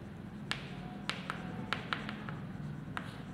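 Chalk or marker scratches and taps on a classroom board: a quiet series of short, sharp strokes at uneven intervals against a steady room hum, with no voice.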